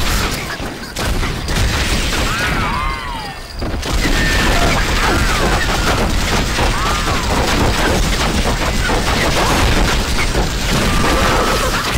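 A minigun in the western shooter Red Dead Revolver roars in a long, dense, continuous stream of rapid gunfire, loud and close, with game sounds over it and a voice talking at times.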